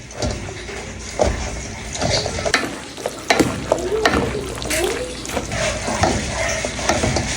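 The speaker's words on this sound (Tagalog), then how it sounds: "haluin natin" Chicken macaroni with cheese, salt and black pepper is stirred in a pot, giving steady scraping and sloshing sounds with a soft sizzle, close by and continuous.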